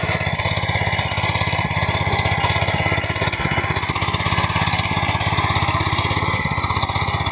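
A small power weeder engine of Japanese design runs steadily nearby on a farm, a loud, even putter with a rapid rhythmic beat and some rattling, no voices.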